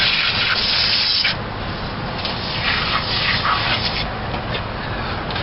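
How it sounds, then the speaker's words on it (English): Pressure washer hissing as it sprays the grimy underside of an old 1978 Dodge Power Wagon truck, a loud continuous close-up jet that briefly shifts tone as the spray moves across the metal, with no talking. "we're going to hit them with the old power wash"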